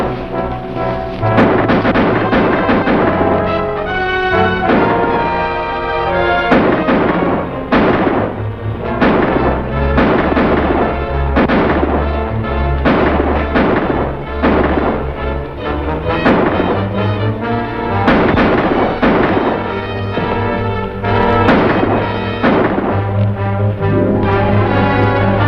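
Repeated gunshots crack out in a 1950 western shootout, loud and close, mixed with rumbling blasts and steady action-scene background noise, with no talking.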